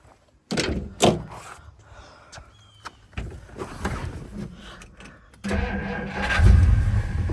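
An old 1958 Plymouth four-door engine cranks and catches after a couple of door thunks, then settles into a steady, rough idle close by.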